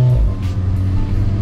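A Golf R engine revs as its DSG gearbox downshifts in sport mode, a loud, close, deep engine drone that rises in pitch and settles. No one speaks.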